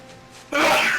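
A person with a dust-mite allergy sneezes once, a sudden loud burst close by that breaks a quiet indoor room.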